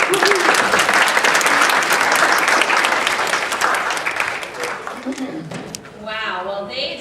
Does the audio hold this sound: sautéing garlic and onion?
no